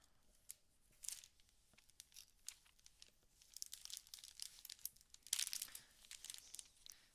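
Someone rummages through a bag of felt, with soft crinkling and rustling in scattered bursts that grow busier toward the end, close and quiet.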